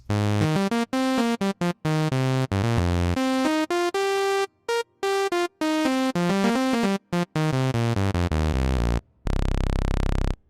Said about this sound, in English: This is the sound of OB-X.